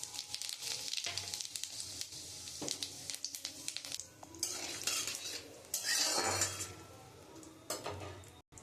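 Dried chili and cumin sizzling in hot oil in a pan, a soft crackling fry mixed with clinking utensil scrapes and pan knocks, with a brief louder burst of sizzle near the end.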